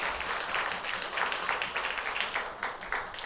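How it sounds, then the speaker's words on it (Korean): A church congregation in a worship service claps together in a brief, moderately loud round of applause, with a steady patter of hands for a few seconds. "우리 다 함께 박수 한번 보내주실까요?"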